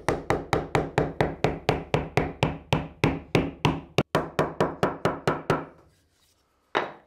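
A hammer strikes wood in a fast, steady series of about twenty sharp blows, stops briefly, then lands one more hit, during upcycling of an office chair.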